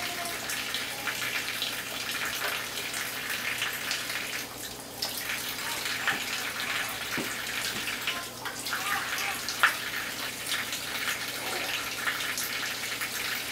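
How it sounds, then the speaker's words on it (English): Water runs steadily from a tap into a sink, a soft continuous splashing hiss with a few small knocks. "Are you keeping the water in the sink?"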